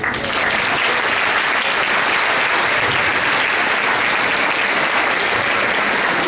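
Lecture audience applauding after a keynote talk, dense continuous clapping throughout, loud and close with no voices standing out.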